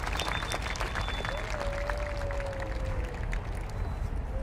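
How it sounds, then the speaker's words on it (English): Crowd applause at a Free Palestine rally, a dense steady clatter of clapping outdoors with a faint whistle rising over it and some voices mixed in. "Guys, give him a round of applause."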